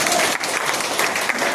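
An audience claps together in a dense, steady burst of applause that lasts under two seconds, loud and continuous with no pause.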